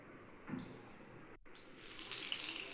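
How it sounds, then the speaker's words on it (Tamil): Hot oil boiling in a pan for deep-frying Arabian-style mutton kibbeh, a low bubbling that swells into a loud, steady sizzling hiss in the latter half. "நல்லா எண்ணெய் கொதிக்குது பாருங்கள்"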